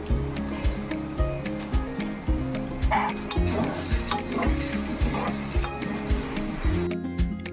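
Fried fish mash with coriander leaves stirred in a pan, regular scraping strokes about twice a second over a continuous sizzle, close and clear, stopping just before the end.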